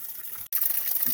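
Water from a mountain stream on the Appalachian Trail splashes and gushes steadily into a container being filled, close and fairly loud, with one brief gap partway through.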